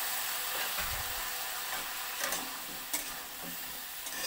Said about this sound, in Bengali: জলটা দিয়ে আবারও ভালোভাবে মিক্স করতে হবে